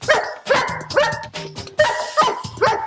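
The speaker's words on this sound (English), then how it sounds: "And Ruff barks when he's hungry" A dog barks repeatedly, about six sharp barks in a steady rhythm, close and loud with no other sounds.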